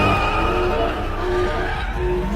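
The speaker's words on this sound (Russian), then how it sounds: "Этот атмосферный звук V8." A supercharged V8 in a Mercedes-Benz W220 S55 AMG gives off a loud, steady roar with strong low rumble that holds for a couple of seconds at close range. No one speaks over it.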